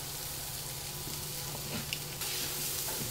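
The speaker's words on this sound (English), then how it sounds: "We can go ahead and add that onion right back in the same skillet." Onions dropped back into a skillet with shrimp drippings and Creole seasoning, a soft continuous sizzle that grows a little louder near the end, no voices.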